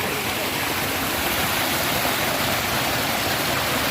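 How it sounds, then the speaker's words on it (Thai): Khao Phanom Sap waterfall running full in a shady natural setting, a steady, dense rush of falling water with no break or change throughout. "วันนี้พามาชมน้ำตก เขาพนมสาบ"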